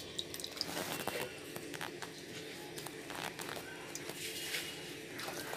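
Small coastal fish (seeramenu) are rinsed by hand in water, with close, irregular splashing, sloshing and dripping that runs continuously.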